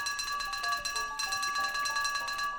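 Steady, bright ringing from a bell in a video game dominates, its sustained tones layered and pulsing slightly throughout, loud and close with no talking.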